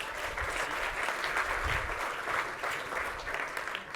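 An audience at a talk on DevOps claps in steady, dense applause throughout, loud and close.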